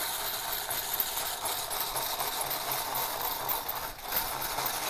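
Old hand-crank egg beater whisking two egg whites toward soft peaks, a steady whirring, clicking gear rattle running continuously up close with no voices.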